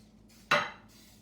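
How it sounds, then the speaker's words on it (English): Cooking spray is lightly misted onto a muffin tin in a kitchen: a single short, fairly close hiss that fades within a fraction of a second, with quiet room tone before and after. "I'm going to lightly spray only 6 of these muffin tins"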